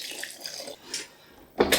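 Water poured into a well of flour and olive oil in a mixing bowl for focaccia dough, a short splashing pour near the close after a quiet stretch of kitchen sounds.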